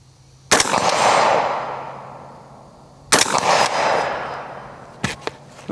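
A rifle with a 20-inch barrel, M-LOK handguard and vintage three-prong flash hider fires two sharp, loud shots a few seconds apart outdoors, each trailing a long rolling echo, followed by a brief clatter.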